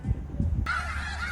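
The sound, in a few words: flock of birds honking in the distance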